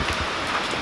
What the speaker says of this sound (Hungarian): inkább a másik probléma az, hogy esik az eső